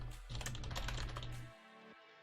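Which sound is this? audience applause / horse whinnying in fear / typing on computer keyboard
typing on computer keyboard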